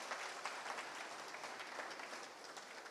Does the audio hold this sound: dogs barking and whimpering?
no